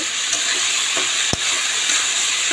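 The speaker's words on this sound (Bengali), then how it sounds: "চালটা ভেজে নেব।" Rice frying with lentils in a hot pan for khichuri, a steady bright sizzle throughout, with a single sharp scrape of stirring midway; close and fairly loud, no voices.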